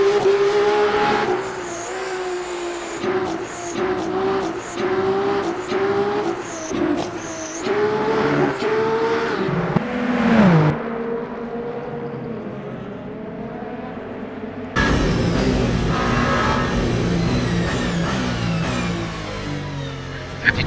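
A race car in the Le Mans Ultimate sim, running the 24 Hours of Le Mans circuit into the Porsche Curves, roars close with a rising, shifting engine note, drops briefly as it brakes and downshifts, then returns as a broader, rougher engine rush.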